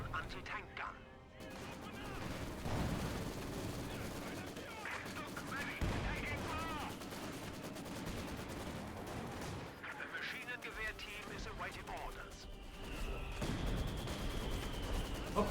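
Artillery shells and small-arms fire boom and crackle in a Company of Heroes 2 battle, with dense overlapping shots and blasts of varying distance that continue steadily across the whole stretch.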